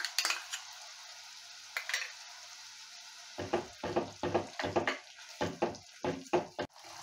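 Spice masala with chilli powder, beaten sour yogurt and a pinch of sugar fries in a pan for a mustard pabda fish curry. A faint sizzle sits beneath a run of quick, uneven scraping stirs that grow busier toward the end.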